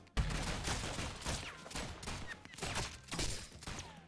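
Rapid, dense bursts of gunfire from the video game Rounds crackle continuously at close range, with sharp overlapping shots and a few small ricochet-like pings.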